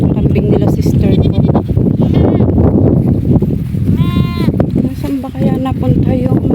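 Goats bleat several times, loud and close, mixed in among people talking over a busy farmyard background.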